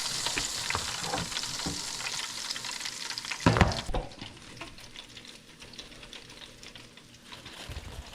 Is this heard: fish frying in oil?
yes